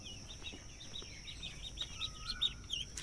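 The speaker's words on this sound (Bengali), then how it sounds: "এই যে হাঁসের বাচ্চাগুলো," Ducklings peep in faint, high, repeated chirps at a distance, scattered in short bursts over a quiet background hiss with no voices.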